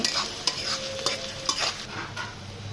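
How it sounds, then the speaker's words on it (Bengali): Cinnamon, bay leaf, green and black cardamom, cloves and chopped onion fry in oil for chicken curry, a steady sizzle broken by repeated sharp spatula scrapes and stirs against the pan. "তারপরে একটু সময় ভেজে নিচ্ছি"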